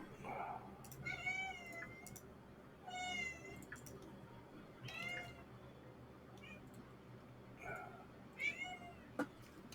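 A house cat meows several times close by, in separate calls spaced a couple of seconds apart, over a low steady hum.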